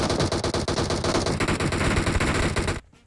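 Rapid automatic gunfire in a PUBG Mobile match, a loud dense burst of shots in quick rhythm lasting nearly three seconds before cutting off abruptly.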